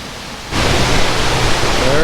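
Newbie Young Falls in the Southern Sierra near the Kern River Valley in Sequoia National Forest, heard as a loud, close, broadband rush of falling water that swells suddenly after a quieter start.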